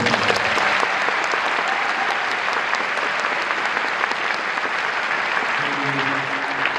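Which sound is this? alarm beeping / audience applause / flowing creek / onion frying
audience applause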